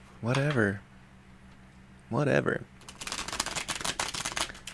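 Tarot cards are shuffled by hand in a quick run of crisp riffling and flapping, close and clear, following two short bursts of a voice talking.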